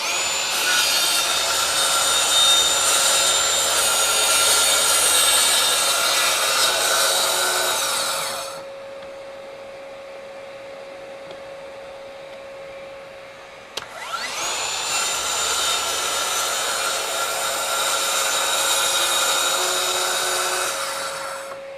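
A RIDGID 18V brushless track saw cuts through wood with dust extraction running, a loud steady whining cut that stops for several seconds, leaving only a faint hum, then starts again at full volume.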